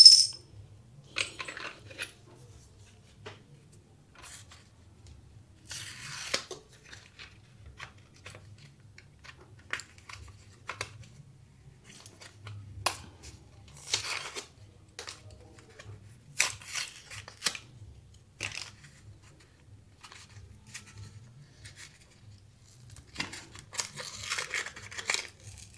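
Packaging of a new pair of Shimano disc brake rotors being opened, with scattered crinkles, tears and light plastic and cardboard rustles coming in irregular bursts against near silence.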